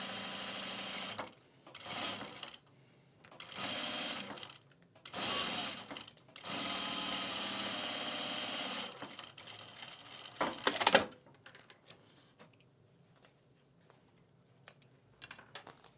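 A sewing machine stitches a travel bag in several short bursts followed by a longer steady run, close and clear, then a sharp handling clatter and quieter shuffling.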